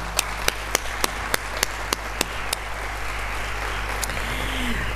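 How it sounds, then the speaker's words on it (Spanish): Applause from the audience at a digital book presentation for writers: a handful of sharp, separate claps ring out over a steady low hum, then fade into a quieter background. "Un aplauso para vosotros."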